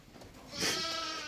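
Ewe bleating while giving birth to a lamb, a single drawn-out, wavering bleat close by, starting softly and swelling louder before trailing off.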